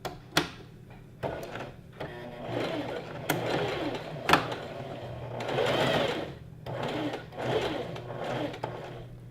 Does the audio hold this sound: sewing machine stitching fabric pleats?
yes